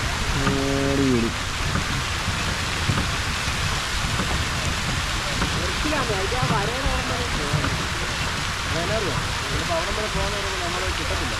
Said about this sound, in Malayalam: ഈ വെള്ളം വീഴുന്നുണ്ട്